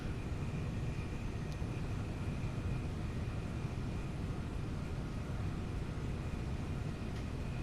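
A train in the Train Sim World 2 video game produces a steady, dense rattling rumble that sounds like a helicopter, continuous and even in loudness throughout with no pauses.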